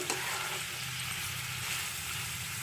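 Food with dried red chillies frying in a pan while being stirred, giving a steady, close, even sizzle that holds at the same level throughout with no voices.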